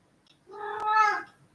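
A single drawn-out cat meow, close and clear, rising and then fading in a quiet indoor room on a rainy day, with no other sound around it.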